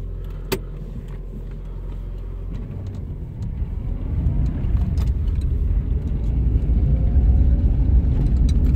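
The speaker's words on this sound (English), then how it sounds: "Drives really nice, this car." A 1996 Subaru Liberty drives around the block, its engine and road rumble steady at first, then building louder and denser toward the end, heard from inside the car with no talk.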